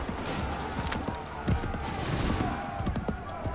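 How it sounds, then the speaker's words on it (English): Musket volley gunfire in Assassin's Creed III during an American Revolution battle, with dense overlapping shots and crackling fire under steady battle noise and shouting, the volley swelling around the middle and continuing to the end. "Make ready. Prepare yourselves. Open fire."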